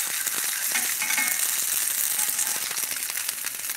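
Potato cakes fry in a skillet with a little bacon grease in the bottom, crackling and sizzling steadily with dense popping spatter throughout.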